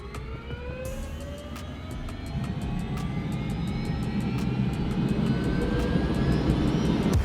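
A helicopter engine spooling up during a maintenance run at Boulder City Airport, a rising whine climbing in pitch over a growing low roar, with rapid rhythmic ticking, close and loud.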